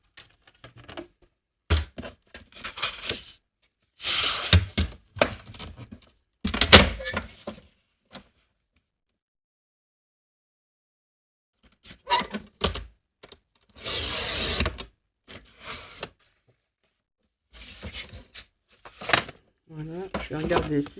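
Paper being cut for the spine of a quick scrapbook folio mini album with three envelopes: scattered bursts of snipping and sliding handling noise, separated by long silent pauses.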